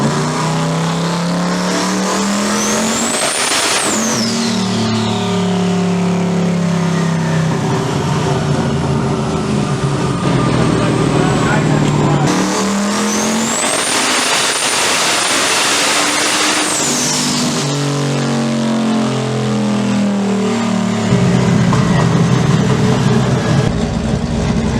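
Turbocharged 5.3 LS Mustang revving hard on a dyno, its engine climbing through two long pulls with a rising turbo whistle, then dropping back, loud and continuous throughout.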